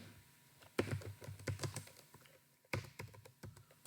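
Code typed on a computer keyboard, bursts of quick close keystrokes with a short pause in the middle, then a few more sharp taps.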